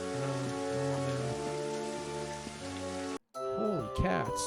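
Steady rain falls in the video game Daggerfall, a dense hiss over soft game music tones, cut off abruptly near the end before a brief burst of other sounds.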